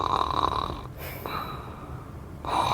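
A storytelling voice imitates a creature snoring: two or three slow, drawn-out rasping snores with a short pause between them, close and fairly quiet.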